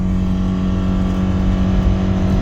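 A 2015 Subaru Forester 2.5 with automatic transmission accelerates at full throttle uphill, a steady, loud engine drone heard from inside the car without any talking.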